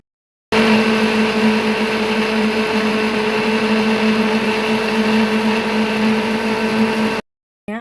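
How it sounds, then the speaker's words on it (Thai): A blender whirs steadily for about seven seconds, blending a wasabi seafood salad dressing made with three sachets of wasabi and vinegar, a loud continuous motor drone with strong hum that cuts off abruptly at the end. "ไปปั่นนะคะ"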